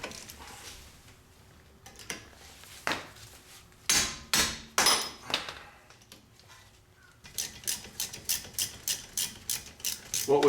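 A 12mm socket working loose a car's brake caliper bolts, with a burst of heavy metallic knocks followed by a steady run of rapid, evenly spaced ratcheting clicks, close and alone.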